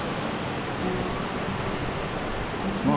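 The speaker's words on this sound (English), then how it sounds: "Waterfall," Small mountain waterfall near Echo Lake in Franconia, New Hampshire, a steady broadband rush of flowing water, close and constant, with no voices over it.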